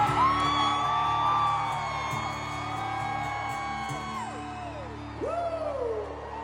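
Several people scream and whoop together in long rising and falling cries, loud and close, overlapping one another with a crowd-like excitement.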